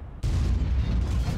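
A single heavy artillery shot from an SU-8 self-propelled gun in World of Tanks: a sudden loud boom after a brief quiet moment, then a long dense low rumble that holds steady for more than a second.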